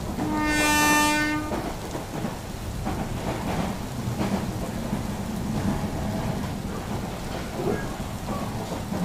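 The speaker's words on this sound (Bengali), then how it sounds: "কিছুক্ষণের মধ্যেই ট্রেন ছেড়ে দিল।" Train departing a small station on a rainy night in an animated horror tale, a loud horn blast at the start, then steady rain and low rumbling with no talk.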